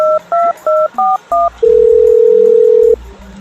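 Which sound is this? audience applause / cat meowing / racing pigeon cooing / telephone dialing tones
telephone dialing tones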